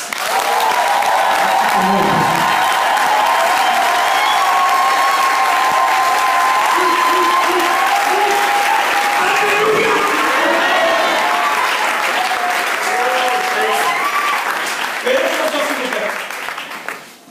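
A church congregation at a central church in Cameroon applauds and cheers, a loud sustained wash of clapping and crowd voices filling the whole stretch, with raised shouts and a speaking voice rising above it at moments.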